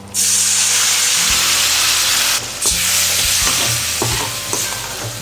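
Taro root pieces sautéing in oil with tamarind water, a loud continuous sizzle and hiss close up, with a spoon scraping and stirring in short bursts through it.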